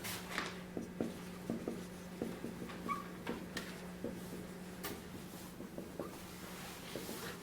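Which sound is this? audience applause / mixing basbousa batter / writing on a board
writing on a board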